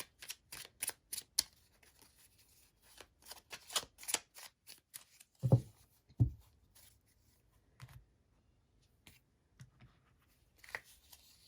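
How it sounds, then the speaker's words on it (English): Tarot cards being shuffled and drawn, with quick papery riffles and flicks in short clusters and a couple of soft thuds as cards are set down, close and quiet with no talk. "Let's draw a few more tarot cards here for you."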